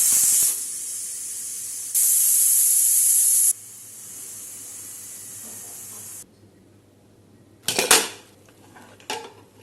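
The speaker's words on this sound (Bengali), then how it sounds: "এখন আমি এটা চুলাটা বন্ধ করে দিব এবং প্রেসারটাকে রিলিজ করে দিব।" A pressure cooker cooking beef nihari with trotters vents its steam in loud, forceful hissing bursts that cut off and weaken in steps, followed by clattering of pot and lid.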